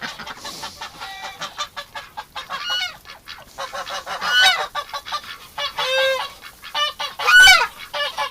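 A goose in a winter duck pen honks loudly in repeated bursts, harsh calls coming close and strong with short gaps between them, mixed with clucking from other fowl.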